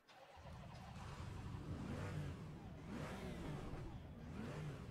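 GT4 race car at Bathurst in Assetto Corsa Competizione, engine droning and revving steadily and loudly for the whole stretch, with rising and falling pitch sweeps as it works through the gears, no talk.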